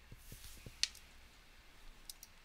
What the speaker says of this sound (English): then use my arrow keys on the keyboard